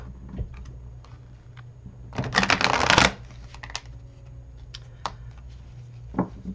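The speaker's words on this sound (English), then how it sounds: "It does not shuffle well, mostly because the cards are thicker" Stiff, thick tarot cards are shuffled in one short riffle burst, followed by a few scattered taps and clicks in a quiet room.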